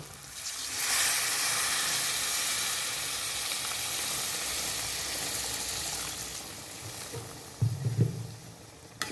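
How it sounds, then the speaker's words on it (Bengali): Water hits a hot pan of ghugni with a broad, loud hiss and sizzle that fades over several seconds. A short low bubbling follows near the end. "এখন জল দিয়ে দেব"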